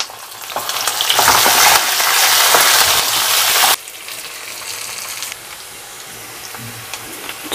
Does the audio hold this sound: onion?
yes